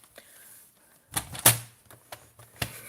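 Paper card is trimmed with a trimmer blade during card-making, giving a few sharp, close slicing snaps and clicks spaced out over quiet moments, with faint handling noise between them.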